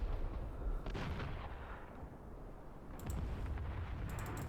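Mortar and artillery fire in the war game Call to Arms, a continuous rumble of distant booms and blasts rolling under the battle, with a couple of sharp small-arms pops near the end.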